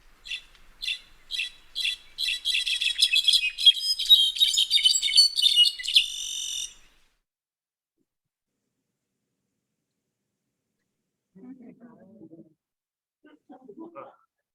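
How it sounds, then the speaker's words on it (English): A brown-backed solitaire of the pine-oak forests of Mexico's Sierra Madre sings a rapid series of bright, tinkling, high notes for several seconds. Silence follows, then a person begins speaking. "that brown-backed solitaire is the sound of the Sierra Madre"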